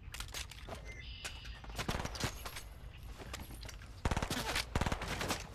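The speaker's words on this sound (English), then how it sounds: "Being shot at." Video game gunfire in a multiplayer match, with quick bursts and scattered single shots cracking over background game noise, growing louder and denser toward the end.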